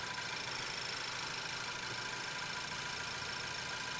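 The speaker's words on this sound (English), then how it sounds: "You can hear the engine change from the rich mixture" A car engine idles steadily at low volume as propane is fed in for enrichment, a constant rumble under broad hiss with no clear change in pitch.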